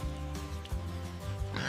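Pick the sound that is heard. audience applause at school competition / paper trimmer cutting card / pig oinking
pig oinking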